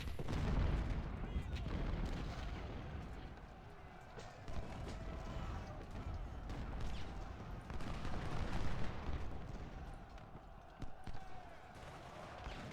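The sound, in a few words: Civil War artillery guns firing in a strategy video game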